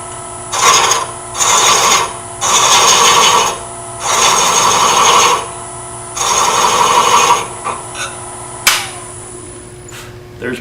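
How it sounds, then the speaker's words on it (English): A thread chaser cuts threads into wood spinning on a lathe, the tool held flat on the tool rest: loud, close rasping bursts of a second or so each, repeated rhythmically over a steady machine hum, then short lighter scrapes. "try it again with a different thread chaser. It's flat on the tool rest."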